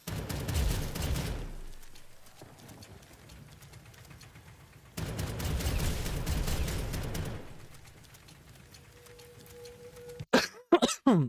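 Repeated coughing and throat clearing from one person at a gaming stream, in two loud broadband bursts, the first near the start and the second around the middle, each lasting a couple of seconds, followed by sharper clicks and bangs near the end.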